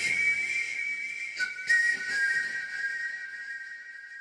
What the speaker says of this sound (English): The whistling's awesome.